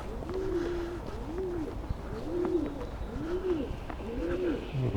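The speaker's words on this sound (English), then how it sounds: "And pigeons as well." Pigeons coo in a steady repeating rhythm, about five soft throaty calls spaced evenly, close by over a low outdoor rumble along a nature trail near a railway.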